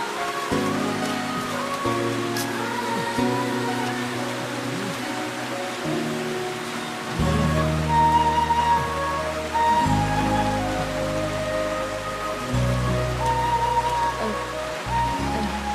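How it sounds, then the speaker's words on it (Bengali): Heavy rain pours down in a constant hiss of drops on surfaces under a swelling music score, with no voices over it. "দেখেছো বৃষ্টিটা আবার কেমন বেড়ে গেল"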